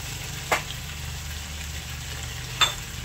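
Meat sautés in a pan with a steady low sizzle, broken by two short sharp clinks of a utensil against the pan, close and with no talking.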